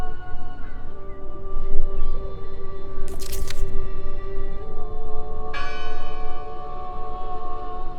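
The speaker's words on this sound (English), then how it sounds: "Listen! The bell! They're still in there!" A church bell in the video game Draugen sounds under a steady low ambient hum, with a sharp bright strike around the middle and another sustained ringing tone near the end.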